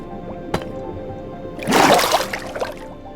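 Water placed in Minecraft Bedrock, a sudden watery gurgling whoosh rising for about a second, preceded by a brief click, with faint game ambience beneath.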